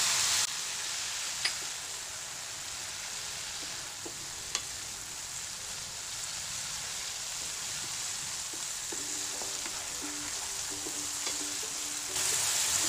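Ginger-garlic paste sautéing with onions in oil makes a steady, hissing sizzle that is continuous and close throughout, with faint tonal music surfacing near the end and no voices.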